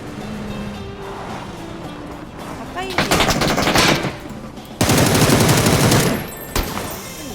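Bursts of automatic gunfire in a video game shooter, loud and close, with two long rapid volleys separated by a short gap over a game background.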